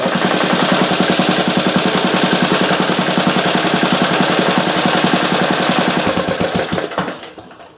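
A group of twelve Clinton small engines runs at once with a loud, fast, rattling clatter that holds steady, then winds down and fades near the end.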